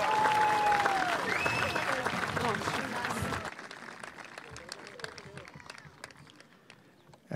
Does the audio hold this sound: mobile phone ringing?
no